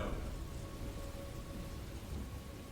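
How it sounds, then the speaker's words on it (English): A thunderstorm in an episode of the animated Star Wars: Clone Wars series, 'Overlords', brings heavy rain in a steady roaring wash with low rumbling underneath. It is loud and constant, with no voices. "The storms here are quite lethal."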